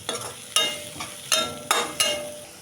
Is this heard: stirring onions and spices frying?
yes